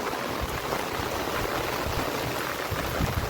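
Heavy monsoon rain pours down in a village, a dense continuous roar of drops drumming on surfaces close by, steady and loud throughout with no voices.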